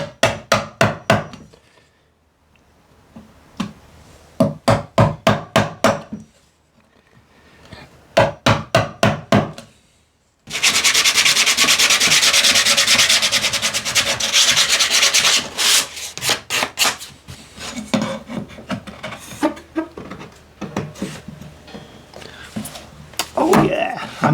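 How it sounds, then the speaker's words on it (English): Hand tool work chiselling a square recess in wood for a homemade router table: several quick bursts of sharp, rhythmic taps, then a loud sustained rasping, scraping stretch, with more scattered knocks toward the end. "Now I just need to chisel out and get that square."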